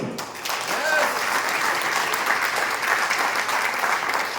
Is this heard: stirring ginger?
no